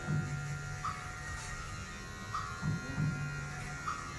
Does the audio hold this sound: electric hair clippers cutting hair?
yes